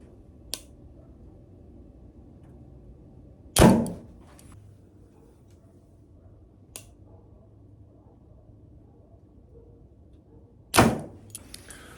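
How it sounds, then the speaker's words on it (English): Sharp click of an Ultraview Hinge 2 archery release firing at anchor, two crisp snaps standing out among a few fainter ticks over a quiet background, with no voices. "see if you can hear the click right about at anchor"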